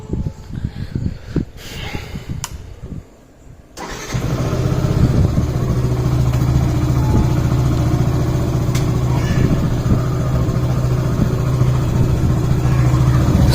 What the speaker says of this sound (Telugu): సో ఇప్పుడు మనం బండి స్టార్ట్ చేసి క్లీన్ చేద్దాం రండి.